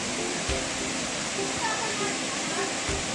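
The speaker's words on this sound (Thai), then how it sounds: "ลงไปแช่น้ำตกกันก่อน" Hot-spring waterfall in Krabi pouring steadily as a broad, constant rushing wash of water, close and even throughout, with faint voices in the background.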